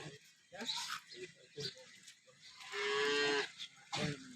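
A dairy cow on a farm gives one long, loud, drawn-out moo up close, with people talking around it before and after.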